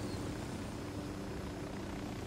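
Helicopter in a video game, a steady low rotor-and-engine drone that holds evenly and faintly in the background throughout, with no talking.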